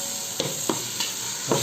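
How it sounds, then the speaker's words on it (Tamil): Tomato, onion, ginger, garlic and green chili sauté with masala in a pan for chicken biryani, a steady close sizzle broken by a few soft stirring scrapes. "இப்போ தக்காளி, வெங்காயம், இஞ்சி, பூண்டு, பச்சை மிளகாய் எல்லாம் போட்டு மசாலாவோட சேர்த்து நல்லா வதக்கிக்கணும்"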